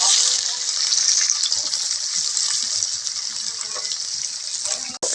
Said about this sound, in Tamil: வெங்காயம் பார்த்திங்கன்னா அருமையாக வதங்கிடுச்சு